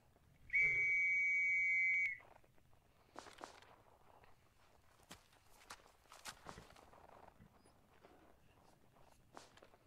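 A single shrill whistle blast rings out for about one and a half seconds during a video game roleplay, followed by scattered footsteps and light shuffling moving about quietly.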